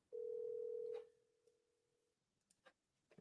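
A telephone dial tone sounds while a call is being placed: one steady, single-pitched hum, loud for about a second, then continuing faintly for another second, followed by a few soft clicks, with no one speaking.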